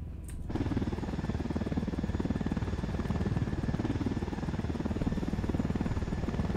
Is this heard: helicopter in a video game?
yes